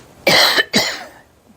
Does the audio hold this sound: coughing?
yes